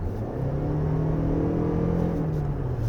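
A 2023 Lexus RX350h hybrid accelerating hard from inside the cabin, a loud steady engine drone with a rising whirring tone and low rumble, sustained throughout.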